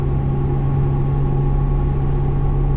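A pickup truck drives an offroad trail, with a steady, droning engine hum and the rumble of its tires. The sound is continuous and fairly loud, with no speech.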